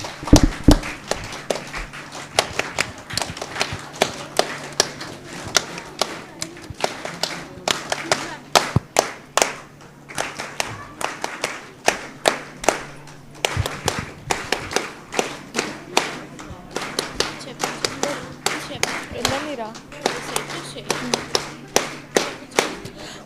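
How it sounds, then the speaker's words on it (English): A school function audience claps steadily at close range, a long dense patter of hands with rhythmic bursts swelling and easing throughout, with occasional thumps and a faint voice at times. "Keep the clapping going on"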